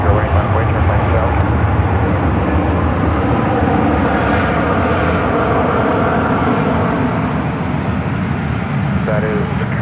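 A jet airliner at San Francisco International Airport rolls for takeoff on runway 10 right, its engines a loud, steady roar, with radio chatter and voices running over it.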